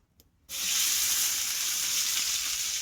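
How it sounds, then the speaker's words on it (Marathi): Chopped okra hitting hot oil in a pan sets off a loud, steady sizzle after a brief quiet start, with a bright hiss that holds until the end and no voices. "आता तयार तेल घालते, बरानं भाजून घेते."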